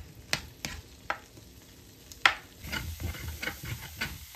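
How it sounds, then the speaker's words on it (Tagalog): Banana pieces frying with sugar in a pan, a quiet steady sizzle broken by a few sharp clinks of a utensil against the pan, with stirring scrapes in the second half. "malapit na rin maluto ang aking banana"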